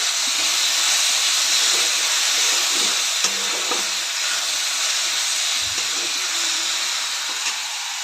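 Soaked masoor dal sautés with onion and tomato in a pan, giving a continuous steamy hiss and soft sizzle with occasional faint stirring knocks, fairly loud and unbroken, no talking.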